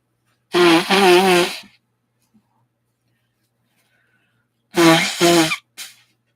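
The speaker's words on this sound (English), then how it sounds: "I'm going to blow my nose real quick, though." Two honking nose blows, each about a second long, separated by a few seconds of silence, with a short snuffle at the end.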